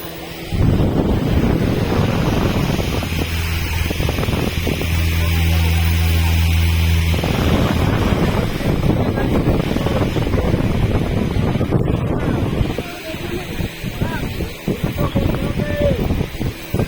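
Wind blows outdoors in steady broadband gusts that buffet the microphone for most of the stretch, with voices talking over it throughout.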